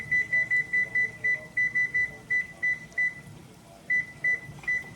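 An oven control panel beeps while the preheat temperature is set to 450 degrees: about a dozen short, clear electronic beeps in a quick, fairly even series, close by, with one pause before a final few.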